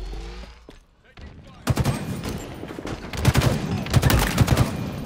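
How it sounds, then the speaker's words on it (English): Rapid gunfire from three-round burst weapons in a video game firefight, dense repeated bursts of shots growing louder and continuing for several seconds after a quieter opening, with a voice briefly speaking underneath. "Nothing satisfies like a three-round burst."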